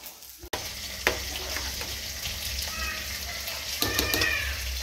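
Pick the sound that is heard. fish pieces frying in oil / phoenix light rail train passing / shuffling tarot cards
fish pieces frying in oil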